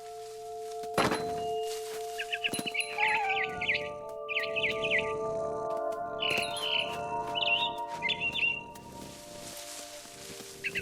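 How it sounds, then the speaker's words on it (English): A barn swallow in the video game What Remains of Edith Finch gives several short, bright chirps in scattered bursts, mixed with soft thunks and sustained ambient tones. "Then I heard chirping outside my window. It was a barn swallow going back to her nest."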